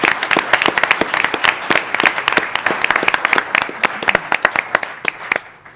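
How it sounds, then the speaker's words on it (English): Audience applause at a school board meeting, a steady run of close, dense hand claps from a room of people that carries on for several seconds before thinning out at the end. "please join me in a round of applause for these two individuals"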